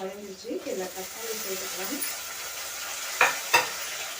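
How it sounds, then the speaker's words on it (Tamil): Tomatoes sauté with salt in a hot pan, giving a soft steady sizzle, with two sharp stirring scrapes near the end; someone speaks over the start. "தக்காளி வதங்கிறதுக்காக கொண்டு உப்பு வந்து சேர்த்துக்கிறேன் உப்பு சேர்த்துட்டு வதக்கும் போது நல்லா வதங்கும்"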